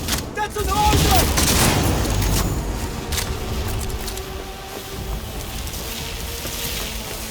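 Bursts of gunfire in the video game Cyberpunk 2077 crack out in a dense opening volley, then thin into scattered shots and rumbling combat noise, with voices shouting over the fight.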